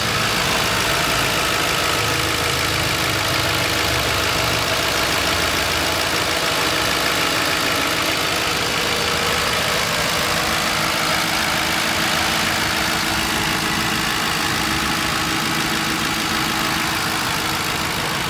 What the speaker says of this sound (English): here's the engine, and once again this vehicle is in great running conditions